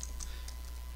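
A few light key clicks from typing on a computer keyboard, quick and faint over a steady low hum.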